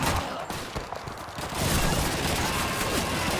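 Rapid machine gun fire rattles in Call of Duty 2, a short lull giving way to a dense, loud, continuous burst of automatic shots that fills the second half.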